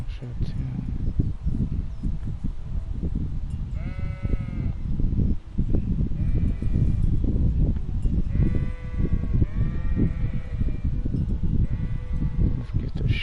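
Sheep bleat repeatedly in the video game Kingdom Come: Deliverance, several wavering calls rising over a loud, busy game soundscape, with a person talking over them throughout.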